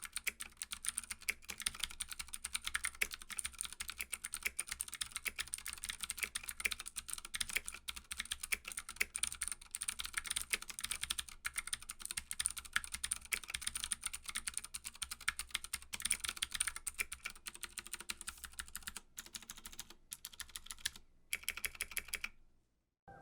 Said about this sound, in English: I know you guys love sound tests, so I'm going to do a quick one for you with the Cherry MX Blues that I have in my Ducky 1-2 SF